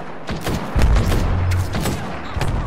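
Rapid volleys of gunfire in Apex Legends, with loud close shots and heavy thuds layered into a dense, continuous burst of combat noise.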